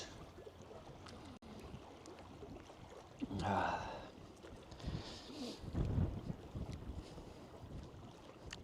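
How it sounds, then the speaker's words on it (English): Wind buffets a microphone outdoors at Kleifarvatn lake, a steady rough rushing roar with louder gusts swelling around the middle and again toward the end, and no voices. "It's the wind."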